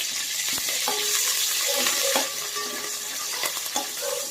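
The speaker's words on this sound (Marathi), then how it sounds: "थोडेसा हा कढीपत्ता घालायचा आहे कढीपत्ता चांगला क्रिस्पी करून घ्यायचा आहे" Curry leaves crackling and sizzling in hot oil with cumin and mustard seeds for a poha chivda, with a spoon stirring and occasionally knocking against the pan, close and continuous.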